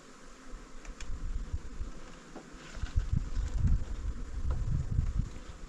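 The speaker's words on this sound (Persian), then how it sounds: "این زنبور" Honeybees buzz around a hive outdoors, a close droning hum that swells and fades as individual bees pass near, over light wind noise.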